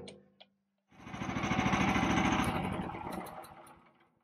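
A garden shredder's engine starts with a loud mechanical roar, runs steadily near at hand, then winds down and fades as the emergency stop cuts it out.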